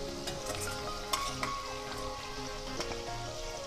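Chicken for korma sizzling and frying in a pan, a steady crackling hiss with scattered sharper pops and spatters, close and alone without talk.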